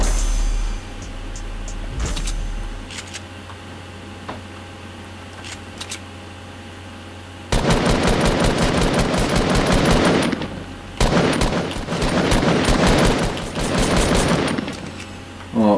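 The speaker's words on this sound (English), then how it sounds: "I want to get into some gunfights right now." Fortnite Battle Royale gameplay with bursts of rapid automatic gunfire on a mountaintop, first sparse clicks and faint shots, then loud sustained volleys with short pauses between them.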